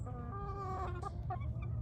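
A rooster on a farm clucks in a short, close run of throaty calls, with steady low barnyard rumble underneath.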